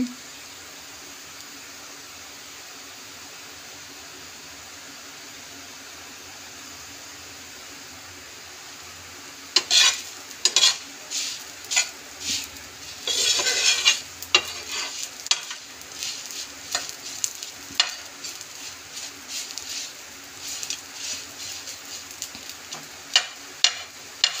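Sago pearls frying and puffing in a pan, a quiet background hiss that turns into scattered crackling sizzles and stirring scrapes partway through, close and irregular.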